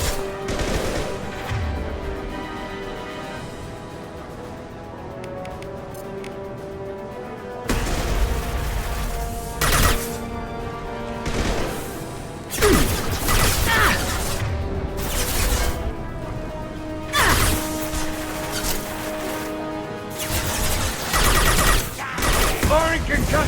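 Mass Effect 2 combat, with a concussive shot and sharp bursts of gunfire, loud cracks and booms, erupting in irregular volleys over a low droning background, with a voice speaking at times.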